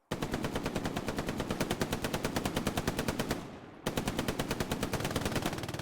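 Rapid machine gun fire in the Hell Let Loose video game, loud evenly spaced bursts of shots close by with a brief pause mid-burst before firing resumes, no talking.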